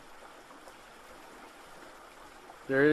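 Squaw Valley Creek on the Pacific Crest Trail flows with a faint, steady trickle, and a voice starts speaking briefly at the very end.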